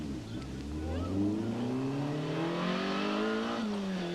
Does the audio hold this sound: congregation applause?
no